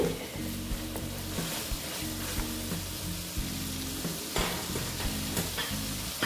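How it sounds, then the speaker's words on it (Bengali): A soybean mixture being stirred and sautéed in a pan: a continuous sizzle with spoon scrapes and occasional sharp clinks against the pan, close and steady, with no talking. "একটু আবার একটু নেড়ে চেড়ে নিচ্ছি। মোটামুটি আমার এটা কষানো হয়ে গেছে"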